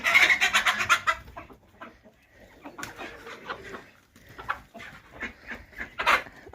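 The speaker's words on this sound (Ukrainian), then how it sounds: "Олег Петрович наш маленький вибіг, балується півник" Chickens cluck and squawk close by in a village yard, loud at first, then scattered bursts of a young rooster's calls and hen clucking continue.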